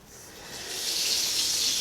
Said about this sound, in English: I'm going to turn on the water and see what happens.